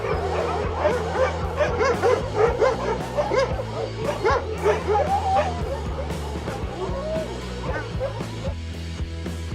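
A large pack of gathered dogs barks, yips and whimpers all at once in a dense, continuous overlapping chorus, with no pauses between the calls.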